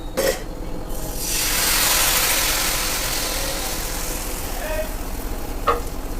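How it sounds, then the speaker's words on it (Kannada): Thin dosa batter made with bottle gourd or cucumber hits a hot pan greased with oil and rubbed with onion, letting out a loud, steady sizzle that swells and then holds, close by, with no talking. "ಸ್ವಲ್ಪ ಎಣ್ಣೆ ಹಾಕಿ ಈರುಳ್ಳಿ ಹಚ್ಚಿದೆ ಈಗ ದೋಸೆ ಹಾಕ್ಕೊಳ್ತಾ ಇದ್ದೀನಿ"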